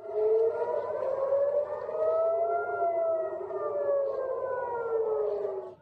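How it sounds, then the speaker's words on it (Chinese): A civil defense air raid siren wails over Tel Aviv during rocket fire, a long rising and falling tone that sounds distant and steady across the whole stretch, with no voices. "以色列特拉维夫不时响起防空警报"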